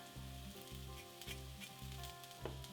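Garlic sizzles in hot oil in a pan with steak bites, a steady close frying hiss with rhythmic pulses as it is stirred, and no voices.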